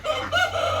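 Several backyard chickens clucking and squawking loudly at close range, a busy overlapping chorus of bird calls with no talking.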